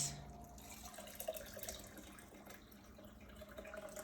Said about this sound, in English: now that the wool has been sitting for a little bit, I'm gonna pull the wool out